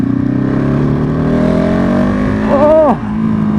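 A motorcycle being ridden in wet mode accelerates hard. The engine note climbs steadily and loudly, rises sharply near the top of the revs, then drops abruptly as it shifts and keeps pulling.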